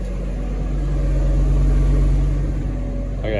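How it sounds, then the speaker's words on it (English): A car engine idles close by, a steady low rumble with an even hum that holds throughout the short stretch, with no talking over it. "Now you can leave your car running."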